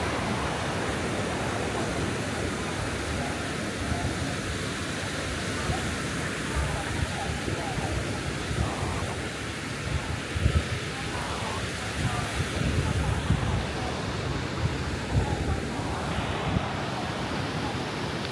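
Constant roar of small ocean waves and steady wind buffeting the microphone, a dense, unbroken wash of noise.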